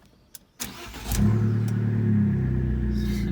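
An Abarth car's engine cranks and fires after a couple of clicks, then settles into a loud, steady, throaty idle with a slight rise in revs, heard close up and alone.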